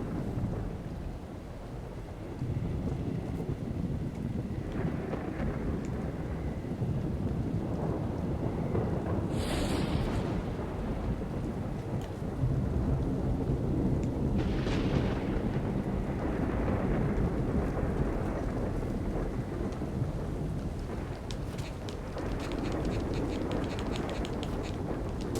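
Thunder rumbling over a stormy swamp setting in the retro video game The Eternal Castle, with steady rain and wind noise throughout and a couple of sharper cracks standing out amid the continuous roar.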